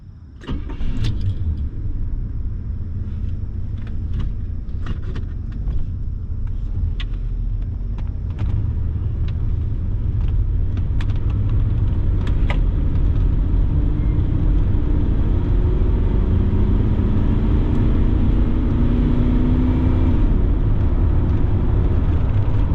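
A 1979 Cadillac Deville Paris flower car cruises on the road at about 55 mph, its engine a loud steady drone with road rumble and occasional clicks and rattles, no talk.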